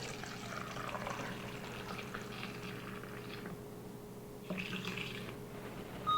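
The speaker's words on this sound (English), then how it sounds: "I have a little funnel. I'm going to put that in and just pour." Liquid pours steadily with a soft trickling, gurgling flow, a brief louder splash near the end, fairly quiet and close.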